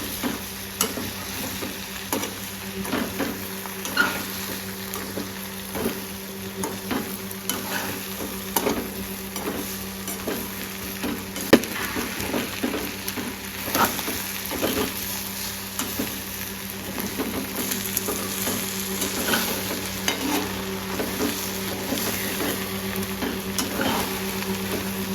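Crispy chicken devilled sizzles and crackles in a frying pan after a squeeze of lime, with steady frying hiss and repeated stirring scrapes over about twenty-five seconds, no talk.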